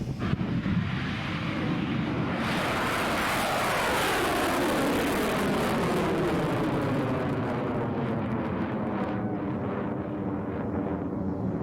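The EXOS SARGE rocket roars after ignition with a dense, broad, continuous rumble that sets in abruptly and stays strong throughout, slowly thinning in the upper range as the vehicle climbs away.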